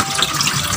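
Tap water runs steadily over raw salmon belly being washed by hand in a kitchen sink, a close, continuous splashing stream with no pauses.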